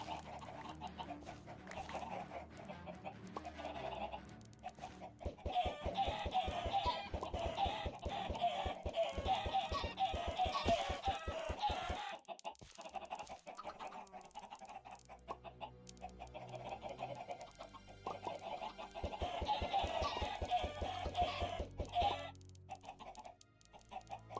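Chickens clucking in a flock, rhythmic bursts of close clucks and cackles repeating over a long stretch, with quieter pauses between the bouts.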